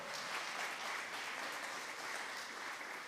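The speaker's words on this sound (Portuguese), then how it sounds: "Você pode dar uma salva de palmas para o Senhor?" Steady, dense applause from a church congregation clapping for the Lord at a family celebration service, continuous and even throughout with no speech.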